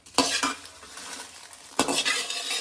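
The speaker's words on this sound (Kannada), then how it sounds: "ಇದು ಕೂಡ ಅಷ್ಟೇ ಲೋ ಫ್ಲೇಮಲ್ಲಿ ಹಿಂಗೆ ಫ್ರೈ ಮಾಡ್ಕೊಳ್ಳೋಣ" Sambar powder spices frying in a little oil over a low flame, two sharp clanks of a spoon or ladle against the pan over a faint continuous sizzle, no voices.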